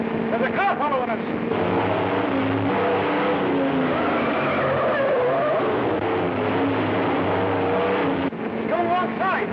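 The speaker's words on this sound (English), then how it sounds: "There's a car following us!" A 1938 film car chase: engines roar steadily as tires squeal and skid, loud and close, with raised voices shouting over the vehicle noise.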